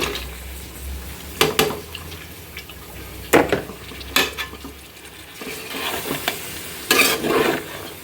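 Bitter gourd and potato stir-fried in oil with onion, green chili and minced meat: a steady pan sizzle broken by several sharp bursts of spatula scraping and stirring, close up with no talking.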